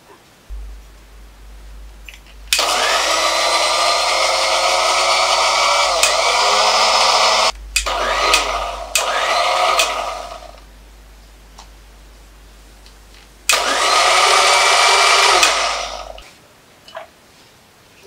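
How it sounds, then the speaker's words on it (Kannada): A kitchen mixer grinder whirring loudly as it grinds flower petals with a little water, running in three separate bursts with short pauses between, its motor whine steady and close, no voices. "ಇದಕ್ಕೆ ಸ್ವಲ್ಪ ನೀರು ಹಾಕಿ ರುಬ್ಬಿಕೊಳ್ಳುವಂಥದ್ದು."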